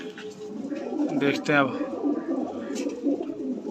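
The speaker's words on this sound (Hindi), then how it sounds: "ये शौक वाले कबूतर हैं।" Fancy flying pigeons kept as a hobby coo repeatedly nearby in soft, rolling calls, heard beneath someone talking.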